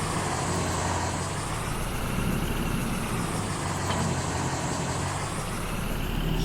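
A truck engine in Farming Simulator 22 drones steadily and loudly at a constant pitch, with a faint hiss of air near the middle and no voices over it.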